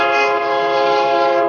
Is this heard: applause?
no